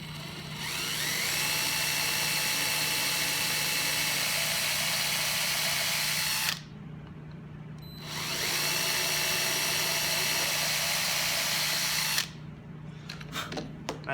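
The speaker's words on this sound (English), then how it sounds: "So now all I got to do is just drill a couple holes." Power drill boring holes into the wooden body of a Stew Mac Mini T guitar kit, two sustained whining bursts separated by a short pause, close and steady, with no talking.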